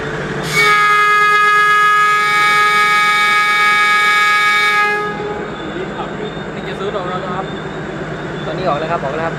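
A train horn blares loud and steady for several seconds as a train departs a station at night in Thailand, then cuts off, leaving rumbling engine and rolling noise with faint voices in the background.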